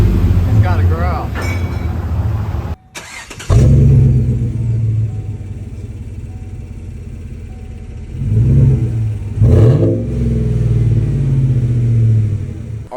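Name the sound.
Chevrolet Silverado engine revving with custom quad-tip exhaust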